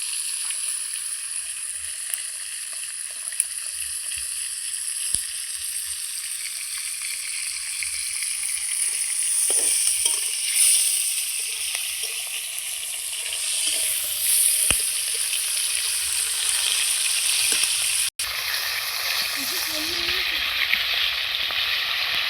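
Hilsa fish heads fry in a pan with a steady, close sizzle and crackle of hot oil that runs unbroken throughout, with a few light stirring knocks and no talking.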